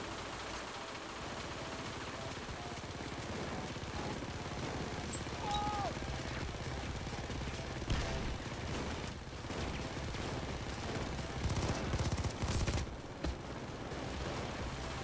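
Turret gunfire during a bank heist in Payday 2, dense rapid bursts of automatic shots layered over a busy game soundscape, at moderate loudness and fairly distant, with scattered louder volleys.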